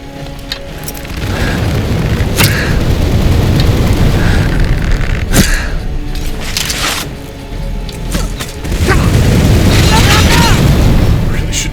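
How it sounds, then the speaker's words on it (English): A dragon breathing fire in a fantasy video game, heard as a loud, continuous roaring rush with sharp bursts and pops layered over it throughout, the roar swelling again toward the end. "This one's shooting fire everywhere. Come here, dragon."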